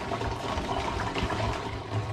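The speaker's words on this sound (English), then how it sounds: "pouring this into the other vessel temporarily" Gin-infused hard apple cider poured from a homebrew vessel into another container, a faint steady splashing, gurgling stream of liquid with no talking.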